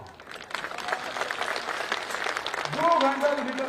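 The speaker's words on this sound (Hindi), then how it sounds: "अब जोर से ताली बजाओ सर" Crowd at a political rally clapping in a dense, steady wash that swells louder toward the end, mixed with voices and a brief tonal sound near the close.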